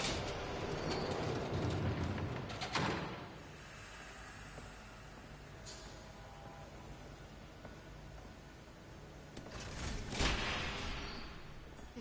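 A train passes nearby in an outdoor setting, with a rushing, hissing rumble that swells early, eases into a steady low drone, then surges again near the end; no voices.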